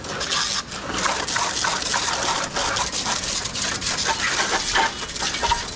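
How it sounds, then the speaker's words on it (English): A steady stream of water sprays against the underside of an ATV, a continuous close hiss and splatter that shifts slightly as the spray moves, with no voices. "getting it all sprayed down now with the stream of water"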